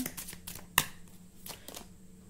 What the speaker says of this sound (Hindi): नेक्स्ट मैं कुछ कार्ड्स निकालती हूँ।